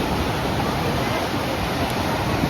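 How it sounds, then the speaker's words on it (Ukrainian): High sea waves breaking on a beach in Tarragona, Spain, a dense, steady roar of surf filling the whole stretch without pause, loud and close. "Хвилі високі, людей достатньо багато."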